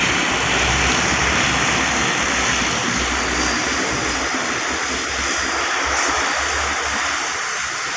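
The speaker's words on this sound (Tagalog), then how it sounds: "dito yan nag-i-start yung aeroplano bago lumipad guys" A small propeller airplane's engine runs steadily before takeoff by a beach, a loud, continuous droning hum with surf-like wash underneath for the whole stretch.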